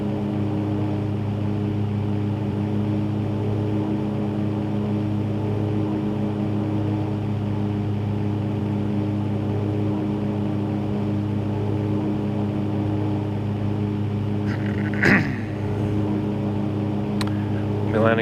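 Steady droning propeller airplane engine in the X-Plane flight simulator, throttled back to about 2,400 RPM during night pattern work, running loud and unbroken throughout with a brief clunk near the end.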